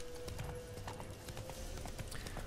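Horse hooves clip-clop steadily in The Witcher III: Wild Hunt, a continuous trotting rhythm at moderate level over a low ambient game soundscape.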